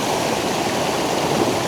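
Icy water rushes in a mountain stream in the Albanian mountains, a loud, steady broadband hiss and gurgle that carries on without a break.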